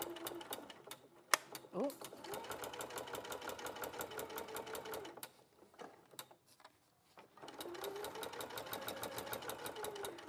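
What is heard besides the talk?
sewing machine stitching a 1 centimetre seam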